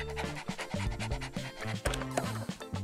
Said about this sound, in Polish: Pies? W moim biurze? To niedopuszczalne.